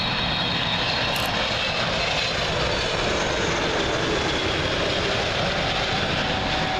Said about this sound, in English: Next up, British Airways 777 in from JFK